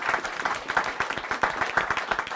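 A crowd claps for panelists at a village press session on East Hampton, with steady, even applause filling the whole short stretch and no talk over it.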